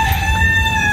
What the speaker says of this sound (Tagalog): Agi, alam mo tuwing morning lang yung mga tilaukan ng manok